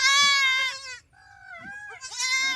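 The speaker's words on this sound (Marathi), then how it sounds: "काळी जी आहे ती पाठ आहे व हे 2 बोकडे आहे." Newborn goat kids bleat loudly up close, with two high, wavering cries separated by a softer, lower bleat, and no talking over them.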